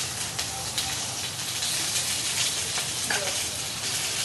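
Chopped onion fries in a generous amount of oil in a pan for a Kolhapuri onion-garlic masala, a dense, even sizzle that crackles close-up throughout with a few brief clinks.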